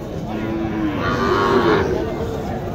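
A somewhat disabled cow gives one long, loud, close moo that rises midway at the Mataji cattle market in Naogaon, with steady crowd murmur underneath.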